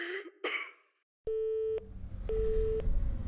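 A telephone busy signal sounds when a call goes unanswered: two steady beeps of about half a second each, separated by a pause. They follow a couple of coughs or throat-clearing sounds, with faint background hiss.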